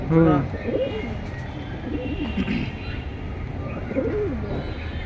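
Several pigeons of a military breed coo in short, soft bursts under a steady background hum, with people talking close by.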